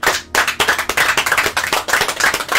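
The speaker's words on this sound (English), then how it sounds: "Round of applause" One person claps rapidly and steadily at close range, a brisk run of sharp hand claps with a brief gap near the start, loud and on its own without voices.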